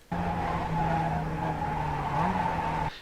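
A Mazda MX-5 Cup race car on track at Summit Point, its engine holding a steady drone with a brief rise in pitch near the end, close and loud, with no voices.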